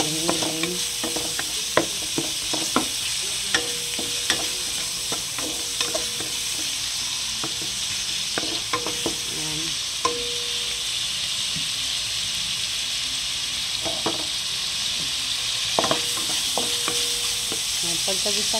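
Ground meat sautéing in a hot pan, with a steady loud sizzle and repeated scraping knocks of a utensil stirring it, close and continuous with no talk.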